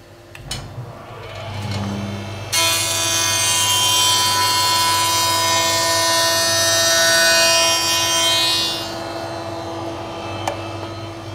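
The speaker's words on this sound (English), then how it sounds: "I'm going to dress one edge before I put it over the saw." A power saw or jointer dresses a 1 mm pass off a wooden board edge: a loud, steady mechanical whine and cutting roar starts a couple of seconds in, holds for about six seconds, then winds down, with no talking.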